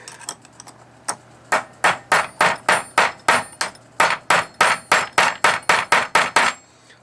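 A hammer taps a pin out of a Marlin 60/70 rifle receiver, displacing the metal, with about twenty sharp, evenly spaced metallic strikes in a steady rhythm, close and loud with no talking.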